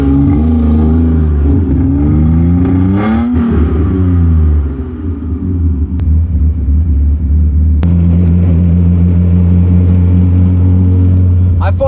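A BMW E36 car engine out on a drive: a steady, close rumbling drone whose pitch sweeps up and down through a rev early on, then settles into an even cruising hum until the end.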